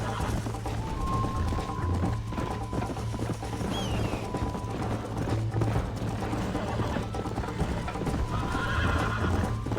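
A horse in Red Dead Redemption snorts and whinnies while its hooves clop along in a steady rhythm, close and continuous, with a low hum running underneath.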